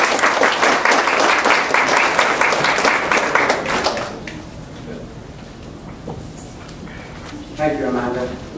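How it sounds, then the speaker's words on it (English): Audience applause at a meeting, brisk and full for about four seconds before dying away, after which a person starts talking. "Give her a round of applause, please."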